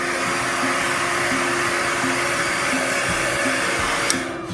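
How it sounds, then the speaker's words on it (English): A loud, steady blowing whir of an embossing heat gun runs continuously, then cuts off abruptly near the end with a click. "Pardon the noise while this embosses."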